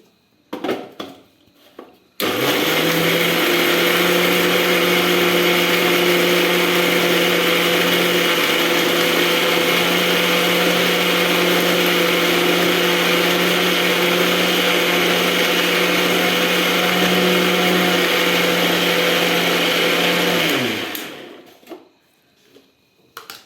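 A kitchen mixer grinder blends a paste, its motor starting abruptly and running as a loud, steady, high-pitched whirring drone for about eighteen seconds before winding down and stopping.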